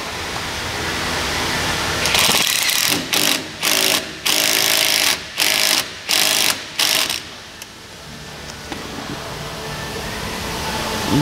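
An impact wrench runs a bolt into the faceplate of an asphalt pump on an Etnyre distributor, hammering in about seven loud, close bursts separated by short pauses over a steady background rumble.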